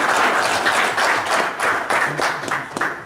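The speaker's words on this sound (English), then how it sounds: "A round of applause for that." Audience at a panel discussion on religion and conflict resolution gives a full round of applause, loud and continuous clapping that holds steady across the few seconds.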